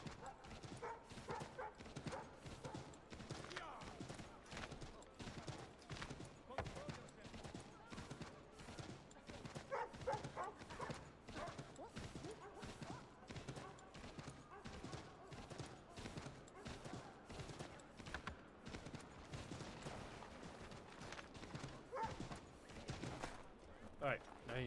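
In Assassin's Creed III Remastered, a horse's hooves clip-clop in a steady, fast rhythm throughout, moderately loud, while someone talks over it at times.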